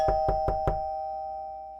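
Four sharp knocks on a door in quick, even succession, close and clear, followed by a quiet room with a steady electrical hum beneath.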